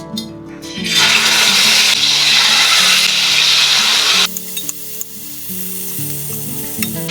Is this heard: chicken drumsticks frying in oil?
yes